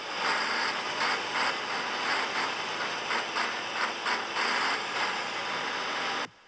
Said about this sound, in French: Ce vrombissement marque la reprise des activités de transport de cette compagnie